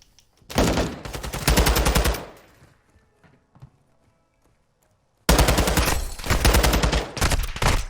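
Rapid automatic gunfire in a Call of Duty esports match, two loud sustained bursts of fast shots separated by a quieter gap with faint scattered sounds.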